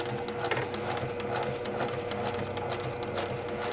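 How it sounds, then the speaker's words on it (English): A sewing machine stitches a quilt-as-you-go block with a steady, fast mechanical whirr and rhythmic needle chatter, close and continuous throughout with no voices. "I'll start sewing"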